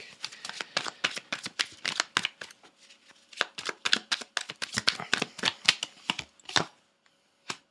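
Silver Witchcraft Tarot cards being handled and shuffled, a quick series of crisp, close riffling flicks in irregular bursts, fairly quiet with no talking.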